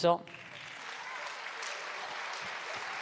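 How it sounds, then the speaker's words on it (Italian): Steady applause from an audience at a folk song and music festival in Tonara, honoring singer Giovanna de Murtas, continuing evenly after a brief voice at the start. "merita davvero un grande applauso"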